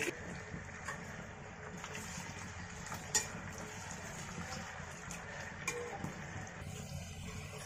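A spoon stirring chopped tomato and green chilli in a pan of hot oil for a Kerala-style pork fry, a steady low sizzle with light scraping clinks throughout, close and even.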